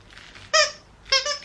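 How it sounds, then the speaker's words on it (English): A squeaky pumpkin dog toy with an extra loud squeaker gives two sharp, high squeaks about half a second apart, close and loud against a quiet room. "It's got an extra loud squeaker apparently."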